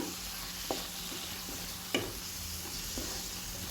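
Chopped tomatoes cooking down in a pan for a Kerala kadala (chickpea) roast, a constant close sizzle with a few sharp clinks of a stirring spoon against the pan, no voices.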